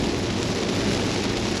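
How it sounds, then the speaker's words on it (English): Heavy rain pours on a Kia EV6 driving up the wet Genting road, a loud, continuous hiss and drumming of water with no gaps. "the rain got worse and worse, and right now it's raining cats and dogs"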